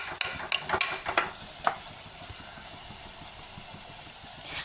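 Bitter gourd fries in a pan with a quiet, steady sizzle, opening with a few sharp clinks of stirring before settling into an even hiss.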